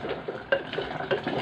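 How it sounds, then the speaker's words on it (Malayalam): A spoon stirs pumpkin and red mung bean erisseri curry in a cooking pot, giving a few soft scraping and clinking knocks against the pot, close and moderately quiet, with no talk. "ഒന്ന് ഇളക്കട്ടെ."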